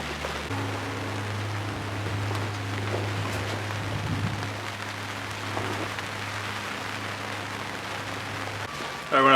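Steady rain falls outdoors at a sawmill, a continuous broadband hiss of drops on surfaces with a low constant hum beneath, even in level throughout before a sudden louder knock at the very end.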